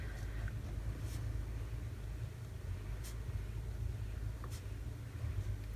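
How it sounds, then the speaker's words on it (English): A neighbor's hay baler baling hay across a lane gives a faint, steady low rumble that runs continuously in the distance without pause. "They're baling hay across the lane."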